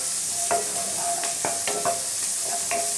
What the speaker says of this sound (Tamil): வெங்காயம் வரமிளகாய் ரெண்டையும் நல்லா வதக்கிடலாம்.